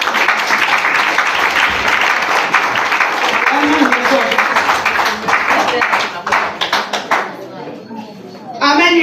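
A congregation at a church seminar applauding and acclaiming the Lord, loud steady crowd clapping with cheering voices for several seconds, thinning out near the end as a voice rises over scattered claps.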